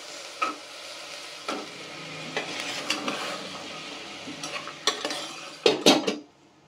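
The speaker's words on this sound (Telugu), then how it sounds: "ముందు ఉల్లిపాయలు టమాటా ముక్కలను అయితే బాగా మగ్గించుకుని తర్వాత శనగలు వేస్తున్నా." Onion and tomato pieces sauté in a pressure cooker, with a low sizzle under repeated metal spoon scrapes and clinks against the pot, close by and irregular, ending in a cluster of louder knocks.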